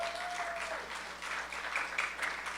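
Steady audience applause at a community chamber of commerce event, a continuous wash of many hands clapping from a seated crowd, fairly distant and even throughout.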